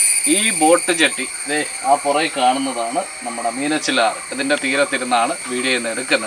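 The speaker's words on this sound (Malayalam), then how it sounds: "നല്ല ചീവിടുന്ന ശബ്ദമുണ്ട്." Cicadas keep up a steady high buzz on the bank of the Meenachil river in Kottayam, faint beneath someone talking throughout.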